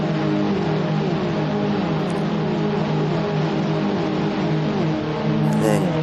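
A car in a sim racing game held at full throttle in sixth gear up a hill, a loud sustained engine note with steady harmonics shifting slightly in pitch throughout.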